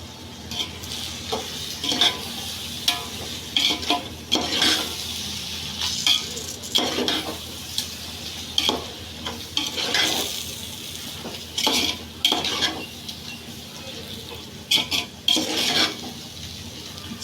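Biryani masala powder sautés in a pan for chicken biryani, with a steady sizzle under repeated scraping and stirring strokes and occasional clinks of the utensil against the pan, no talk.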